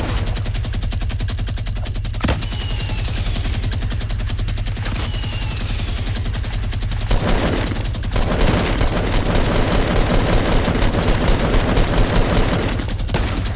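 Continuous automatic gunfire in Fortnite, a fast even stream of shots hammering throughout, growing denser and more varied toward the end with occasional louder bursts, no talking.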